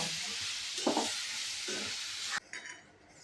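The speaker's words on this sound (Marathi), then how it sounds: "आता भाजते बघ गुळ." Jaggery mixture roasting and being stirred in a pan over a low gas flame, a steady soft sizzle with scraping stir strokes, close and alone, cut off abruptly near the end.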